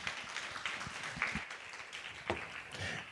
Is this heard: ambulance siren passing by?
no